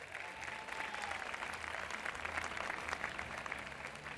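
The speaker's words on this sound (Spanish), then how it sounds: "Un aplauso fuerte." Steady applause from the audience at a drag queen gala in Telde, a dense, continuous patter of many hands held at even loudness for the whole stretch, with no talk over it.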